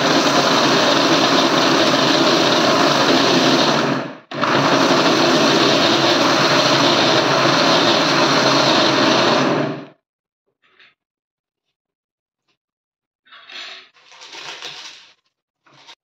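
Electric mixer grinder running on Goda masala spices, a loud steady whirring roar broken by one brief stop, then cut off. A few short rattling bursts follow as the jar is handled, with no talking.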